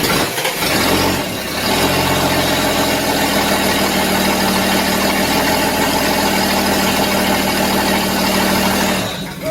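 A Chrysler Slant Six engine cranks and fires for the first time, then settles into a steady, loud idle that runs evenly to the end, close by with no talk.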